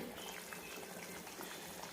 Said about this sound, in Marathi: उकळी आली